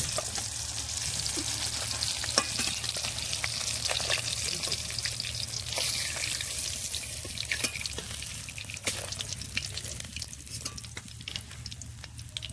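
Rohu fish pieces fry in hot oil with a constant, hissing sizzle and scattered crackles and pops, steady and close throughout.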